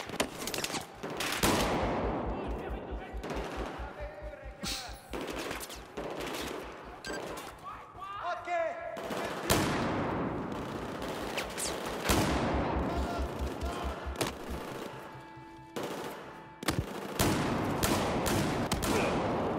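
Automatic weapon fire in the shooter game Battlefield 4, with long rapid bursts and scattered single shots that are loud and dense throughout, mixed with game effects and players talking over the gunfire.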